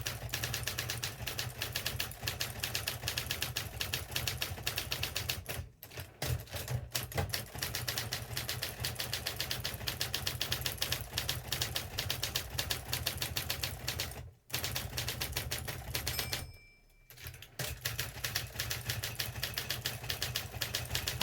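Typing on a German Adler-built Imperial manual typewriter, a fast, steady stream of close, crisp key strikes with brief pauses and a short carriage-return interruption.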